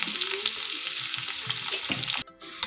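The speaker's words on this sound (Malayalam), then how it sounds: "ഉള്ളി ഇട്ട് കൊടുത്തു കഴിയുമ്പോൾ ഇച്ചിരി കറിവേപ്പില അതുകൂടി ഇട്ട് നമുക്ക് ഇളക്കി മൂപ്പിച്ച്" Onion and curry leaves fried in oil for tempering a Kerala sardine curry, a close continuous sizzle with light stirring that cuts out sharply near the end.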